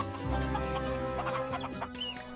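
A chicken clucks several times in a rapid, throaty series, close and fairly loud, with a low hum in the background.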